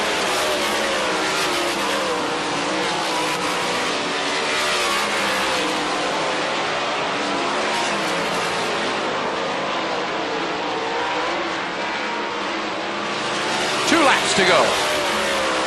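Race cars roar through a heat race on a track, a continuous blend of engines heard from a distance beneath a steady stream of commentary, with a brief louder burst near the end.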